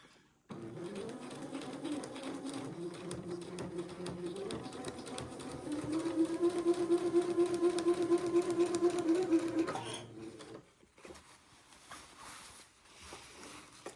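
A sewing machine stitches a seam on the lining of an Eton suit, a steady close mechanical whir that speeds up and grows louder midway, then stops abruptly, leaving faint handling noise.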